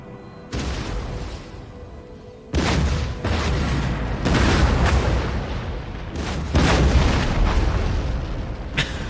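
Heavy booming cannon volleys in the video game Empire: Total War arrive in several bursts, loud and close, with rumbling crashes layered between them and no talking.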